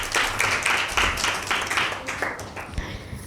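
An audience claps for a correct answer at a Bible quiz show, a burst of moderately loud, close applause in pulsing waves that gradually thins out.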